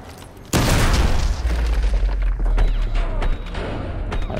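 Gunfire erupts in Call of Duty: Modern Warfare 2 during a hostage-rescue room breach: a sudden loud burst kicks off a dense, continuous barrage of booming shots and clatter that keeps going to the end.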